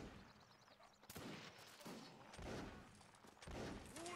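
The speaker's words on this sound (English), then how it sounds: "oh, cannons, no less." Cannon and musket fire booms through a Napoleonic Wars battle in Mount & Blade, several heavy blasts spaced about a second apart with rumbling decay over steady battlefield noise.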